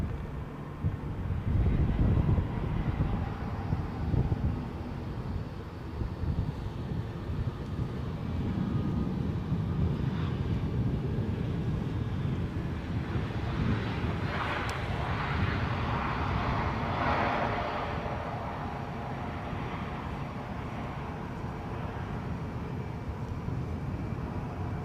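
An airliner lands at Edinburgh airport, a broad distant jet roar swelling and fading amid gusty wind noise on the microphone, with no voices.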